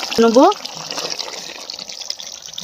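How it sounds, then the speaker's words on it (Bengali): Water is poured into a simmering vegetable curry with dried fish, a steady close gushing splash after a brief voice at the start. "পরিমাণ মতন জল দিয়ে দেবো।"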